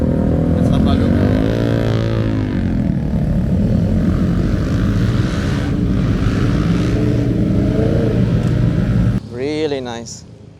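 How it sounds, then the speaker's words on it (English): Loud engine roar of motorcycles passing on a highway near a roadside cafe on Old Pacific Highway, a steady drone with shifting pitch that fades near the end, heard up close. "And then all the bikes pass by, enjoy the view and the sound."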